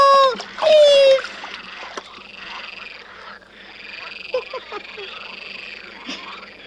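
Frogs croak in a pond setting from a German audio play of the Buratino (Golden Key) tale, steady repeated croaks after a short bright tonal cry, with small splashes and gurgles of water underneath.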